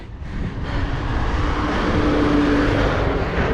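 A truck reverses close by, its engine giving a steady, loud rumble that builds slightly and then holds for a few seconds, with no voices.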